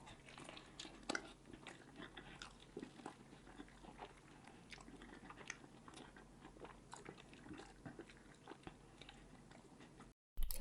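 Close, wet chewing and biting of cheesy mac and cheese, mukbang style, with soft crunchy bites and squishy mouth sounds repeating steadily, no talking.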